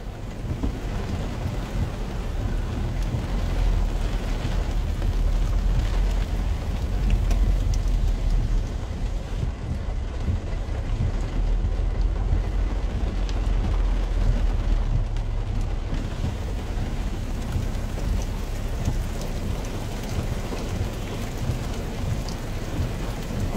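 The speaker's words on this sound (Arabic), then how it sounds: "أمطار الخير حاليا في صاع بمدينة العين" Heavy rain pours down steadily in Al Ain, UAE, a dense, loud, unbroken roar with deep rumbling underneath, continuous throughout with no voices.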